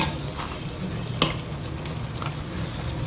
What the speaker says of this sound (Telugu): పీతలు వేసేద్దాం.